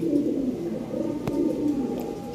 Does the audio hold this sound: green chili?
no